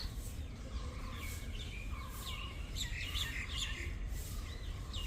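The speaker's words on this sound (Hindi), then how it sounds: "परिंदे भी मुस्कुराने और गुनगुनाने लगे हैं।" Birds chirping and singing outdoors, a scatter of short tweets and trills over a steady low background rumble, moderately distant and fairly faint, with no talking.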